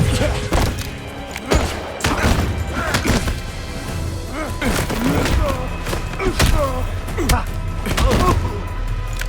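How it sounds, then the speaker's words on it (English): A flashbang grenade goes off in the video game 007 First Light amid a burst of heavy thuds, slams and crashing impacts during combat, with voices in the mix. "Crossing flashbang!"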